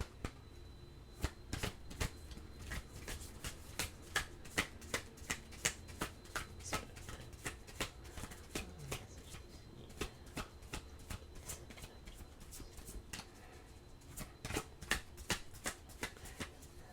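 Oracle cards shuffled by hand during a Taurus reading, a long run of crisp, rapid riffling snaps and flicks in quick bursts, close and fairly quiet with no talking.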